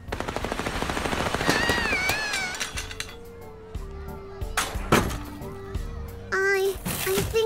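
Gunfire with real bullets in the video game Little Misfortune: a rapid burst of shots at the start, followed by scattered louder cracks among musical game sounds, while a voice and other talk carry on over it.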